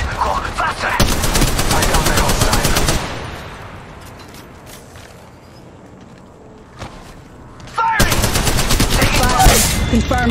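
Automatic weapon fire in the Apex Legends Mobile battle royale game, loud sustained bursts for the first few seconds, a quieter lull, then another heavy volley near the end.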